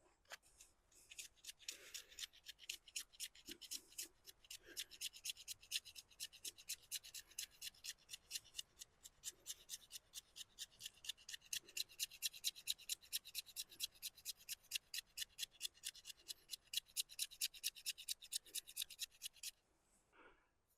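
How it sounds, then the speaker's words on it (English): Knife spine scraping shavings off a stick of fatwood outdoors, heard as a long run of fast, evenly spaced rasping strokes, close and steady, continuing for about eighteen seconds before stopping. "we're going to go down here, just taking shavings off."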